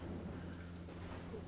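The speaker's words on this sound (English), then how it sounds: "it's raining, even though they have armor" Rain weather effect from Star Wars: Empire at War, a quiet, even hiss of falling rain with a low rumbling undertone, steady and faint throughout.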